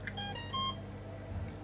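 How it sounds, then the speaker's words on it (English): An Airbot Wraight32 BLHeli32 electronic speed controller under repair gives a quick series of bright, tonal power-up beeps close by, then a faint electrical hum remains. "I can hear the beeps, but same current draw."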